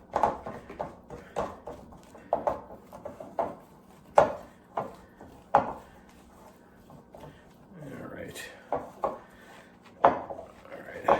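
A whisk working through a thick cornstarch mixture in a bowl, producing a run of sharp, irregular clacks and scrapes at close range, some louder than others.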